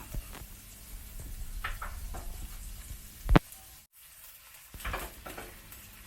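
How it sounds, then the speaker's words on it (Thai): Sliced carrot and baby corn stir-fried in oil in a pan, a steady soft sizzle with scraping stir strokes and a sharp clank midway, close. "ผัดให้ตัวแครอทกับข้าวโพดอ่อนของเราสุกเลยนะคะ"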